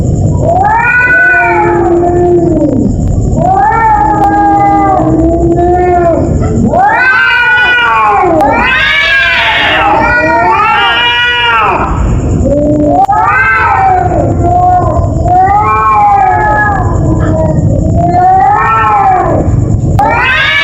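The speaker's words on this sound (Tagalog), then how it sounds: "Yun ang tunog ng pusa namin guys." A cat meows and caterwauls loudly in a long series of drawn-out, wavering cries, close up and continuous, with no other voices.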